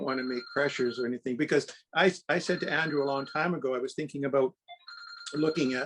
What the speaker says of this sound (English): pardon my phone, don't even know where it is